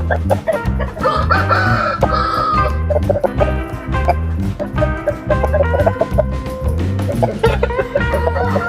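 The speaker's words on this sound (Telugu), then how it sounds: "అబ్రాసు ఇంకో జాతి పుంజులో అబ్రాసు అబ్రాస్ పుంజు" Several Abrasu breed fighting roosters cluck continuously and close by, with a rising crow-like call early on standing out over the dense, rhythmic clucking; no one speaks.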